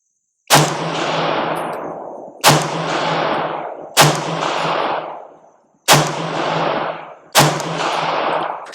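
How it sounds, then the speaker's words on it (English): Five gunshots from a Ruger SFAR .308 caliber rifle with a 16-inch barrel, fired at a target on an outdoor range, each a sharp loud crack with a long rolling echo, spaced about one and a half seconds apart. "we got the RUGER SFAR, the 308 caliber, and we're gonna shoot some rounds here on target"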